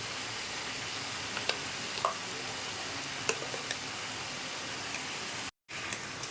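Chicken with turmeric and spices sautés in a pressure cooker, a faint, steady sizzle with occasional soft stirring scrapes and clicks, close by, with a brief dropout near the end.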